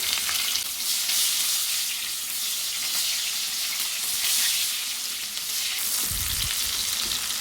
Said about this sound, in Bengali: এবারে পেঁয়াজ দিয়ে দেবো এই তেলি আমি পেঁয়াজ দিয়ে দেবো রান্না করবো এই তেলি